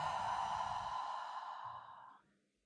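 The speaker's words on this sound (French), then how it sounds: "Grande inspire par le nez, grande expire par la bouche." A long, deep exhale through the mouth during a vinyasa yoga session, a soft breathy rush that gradually fades over a couple of seconds, heard alone and fairly quiet.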